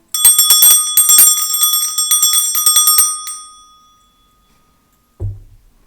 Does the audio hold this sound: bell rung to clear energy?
yes